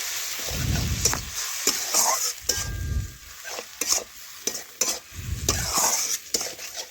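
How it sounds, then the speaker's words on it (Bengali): Spices with ginger-garlic paste sizzle in a hot pan, stirred with repeated clattering scrapes and knocks of a utensil against the metal, close up with no talking. "এখন ভালোভাবে নাড়াচাড়া করে মশলা একটু ভেজে নেব।"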